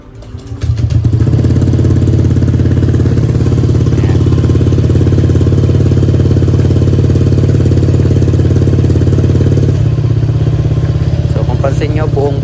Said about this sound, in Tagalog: And i-cold start ko siya, isa-sound check ko siya para sa inyo guys